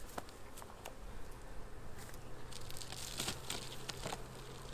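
Honey bees hum in a continuous close buzz while a hive is opened to add a brood chamber, with scattered crackles and taps of frame handling over the drone.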